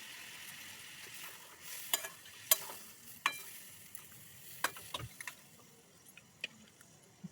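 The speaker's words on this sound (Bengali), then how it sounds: "মাংসটাতে পেঁয়াজ লঙ্কা খুব ভালোভাবে মিশিয়ে নিচ্ছি।" Meat, onion and chili being stirred in a pan: soft sizzling underneath with distinct scraping and clinking stir strokes at irregular intervals, fairly quiet, no talking.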